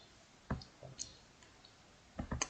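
Quiet, sharp clicks from a computer mouse come in small clusters, a pair early on and a quick triple near the end, close and dry with no voice over them.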